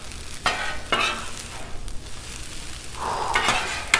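Beef fried rice stirred and scraped on a Blackstone flat-top griddle, a steady sizzle broken by several sharp metal spatula scrapes and taps, close and alone.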